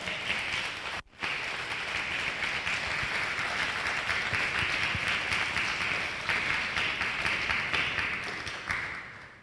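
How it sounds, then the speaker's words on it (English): Sustained audience applause greeting a man brought onto a stage, a steady crowd of many clapping hands at moderate volume, with a brief drop near the start before the clapping resumes and continues evenly. "Give him a big round of applause."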